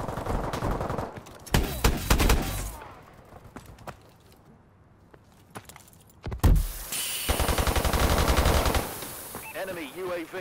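Rapid bursts of automatic gunfire in the Call of Duty Advanced Warfare video game, loud and close, broken by a quieter pause, then heavy sustained firing with radio-style voices.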